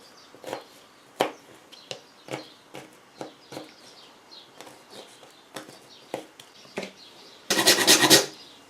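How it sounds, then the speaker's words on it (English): Frozen ginger rasped against a grater in a home kitchen: a regular series of short scraping strokes, roughly one every second, ending in a louder, denser burst of rapid grating. "A good tip for ginger is if you freeze it, it's much easier to grate it."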